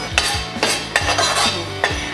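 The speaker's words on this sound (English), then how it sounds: "I'm gonna keep stirring this until it's nicely toasted." Ground shrimp toasting in a pan are stirred with a metal utensil, producing a run of close, sharp scraping clinks against the pan in an irregular rhythm, with no talking.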